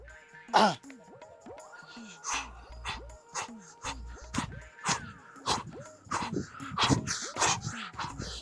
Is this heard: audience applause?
no